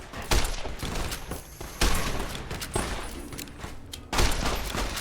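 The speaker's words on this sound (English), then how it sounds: "Oh, they're opening fire immediately." A Fallout New Vegas gunfight breaks out with loud, close bursts of gunfire, about three heavy volleys set against a steady rattle of shots.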